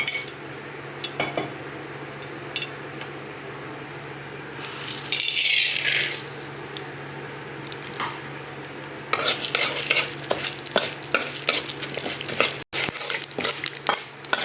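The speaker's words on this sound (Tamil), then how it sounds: "அதில் கொஞ்சமாக எண்ணெய் ஊற்றி எல்லாத்தையும் தாளிச்சிக்க வேண்டியது தான்." Steady crackling sizzle of mustard seeds, salt and chana dal popping in hot oil, with a louder burst of spitting midway and scattered metallic stirring clicks.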